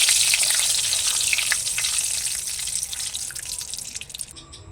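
Whole cloves, cardamom, cinnamon, a dried chili and a bay leaf frying in hot oil for a vegetarian aloo dum gravy, giving a steady bright sizzle with crackling pops that fades slightly near the end.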